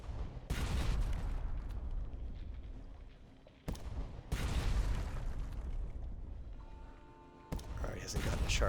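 Ship guns firing in the video game Sunless Sea: loud booming blasts at the start and several more spaced through the clip, each followed by a long rumbling decay, with a tonal hum near the end.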